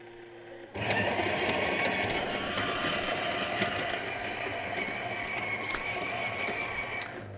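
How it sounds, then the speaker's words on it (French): An automatic coffee machine starts up after descaling, a steady mechanical hum and whir kicking in abruptly after a quiet start and running on evenly, with a couple of faint clicks, fairly soft. "votre machine est dès lors prête à refaire un café. Elle est en ordre marche. C'est parti."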